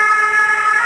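An ambulance siren wails loud and steady as the vehicle rushes a casualty to the nearest hospital, a brief, close burst of sustained tone.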